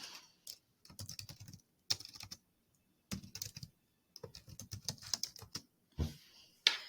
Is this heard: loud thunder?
no